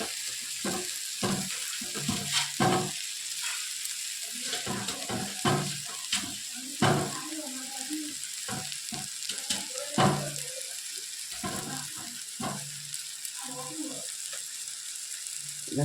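Mango pieces roast in a pan with a continuous soft, watery sizzle. A voice is heard speaking at intervals over the cooking noise.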